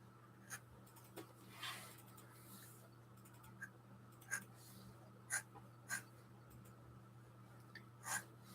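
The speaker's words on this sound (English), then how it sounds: "I think this nib may be nearing the end of its life. It keeps on skipping on me." A dip pen nib inking a comic page, its worn tip skipping: faint, sparse scratches and short strokes spread irregularly over a steady low room hum, with no talk.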